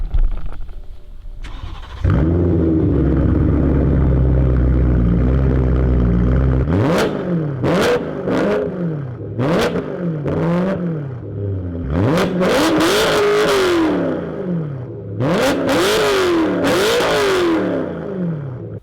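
BMW M3 with a 440 hp engine and X-pipe exhaust, idling after start-up and then revved hard again and again, loud and close, each sharp blip rising and falling.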